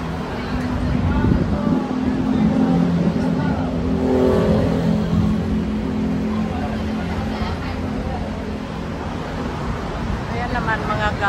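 Steady stream of cars descending from Hong Kong's Mid-Levels, a continuous near traffic rumble with engine drone swelling and fading as vehicles pass, voices talking over it.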